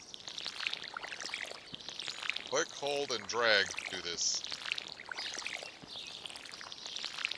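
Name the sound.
watering can watering crops in video game Stardew Valley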